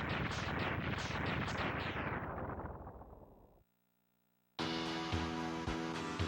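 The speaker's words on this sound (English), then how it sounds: "There is a lot of explosions in the refights." Dense, loud explosion blasts from Mega Man X3 boss refights pile up in rapid succession, then fade over a few seconds into a brief silence before game music starts.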